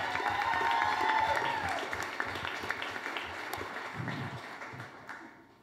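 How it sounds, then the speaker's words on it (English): Applause from a masterclass audience at an Orlando session, steady clapping that gradually tapers off, with a few voices murmuring underneath. "So let's give a giant round of applause to Kimberly Ann Ziedner"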